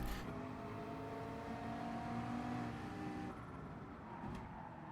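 Race cars in a Rolex 24 Hours of Daytona racing video game drone steadily with engine whine and tonal harmonics, one car's revs shifting and then easing off near the end.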